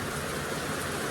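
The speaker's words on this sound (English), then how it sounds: "I'm not sure if you can hear me over the rain" Heavy rain pours down in a dense, steady hiss, loud and close, with no talking heard.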